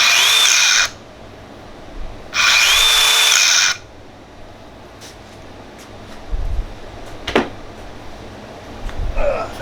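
A DeWalt DCS571B Atomic 20V 4-1/2 inch cordless circular saw whines up loudly in two short runs, each stopping abruptly under its electric brake, followed by quieter clunks and handling noises.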